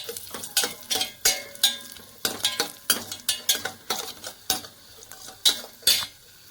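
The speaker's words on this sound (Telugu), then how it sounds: "జీడిపప్పుల్లోనే చిన్న చెక్క, 2 యాలక్కాయలు, 4 లవంగాలు వేసేసుకుందామండి. వేసేసుకొని బాగా ఫ్రై చేసేసుకోవాలి." Cashews stirred in a pan with cinnamon, cardamom and cloves, a close, steady series of sharp scraping and clinking strokes of a spoon against the metal pan, with a faint frying sizzle beneath.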